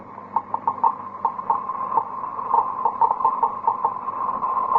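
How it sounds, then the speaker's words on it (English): Irregular clicks tick steadily over a faint hum, like a Geiger counter chattering at a moderate, uneven rate. "That sound is being made by a Geiger counter, a device for detecting radioactivity."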